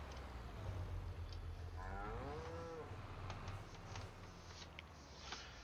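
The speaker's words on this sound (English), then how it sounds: "The cow mooing there reminded me I need to show you guys something else" A cow lowing in the Farming Simulator 25 video game, one drawn-out moo with a falling, wavering pitch, moderately distant, set against a steady low rumble of farm machinery and ambient background noise.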